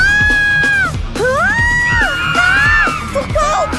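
Several voices scream and yell in a loud, continuous burst, with wavering high-pitched cries overlapping one another close up.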